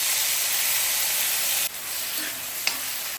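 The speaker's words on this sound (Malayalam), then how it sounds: "ഇനി ഇതിലേക്ക് കട്ട് ചെയ്ത് വെച്ച ഉള്ളി ചേർത്ത് കൊടുക്കുന്നുണ്ട്." Chopped onions tip into hot oil with whole spices like cardamom and peppercorns for keema matar masala. A loud, steady sizzle hisses, then eases into a softer crackle with a brief clink near the end.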